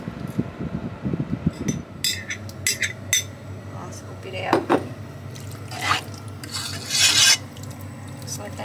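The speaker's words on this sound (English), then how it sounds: "And just tip it in the pot, heat it up, dinner's done." Food gets tipped into a pot on a caravan gas stove, with close metallic scraping and clattering of a utensil against the pot, a few soft splats, and a steady hum in the background.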